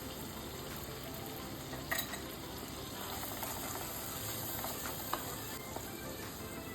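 Tomato and spice mix cooking down in oil for chicken do pyaza, a soft steady sizzle with a couple of faint clinks of stirring, quiet and close.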